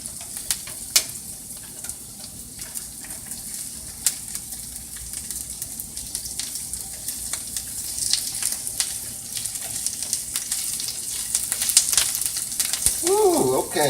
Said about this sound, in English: Hopefully you can hear that nice little sizzle.